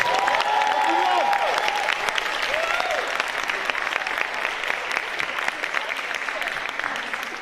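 An audience at an eloquence contest final in Bordeaux breaks into sustained applause as a speaker arrives, with dense clapping, scattered cheers and voices throughout, starting loud and easing only slightly.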